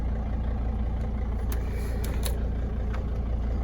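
A Mercedes T1N Sprinter diesel van idles with a steady low rumble, heard close and constant. A few faint clicks sit on top.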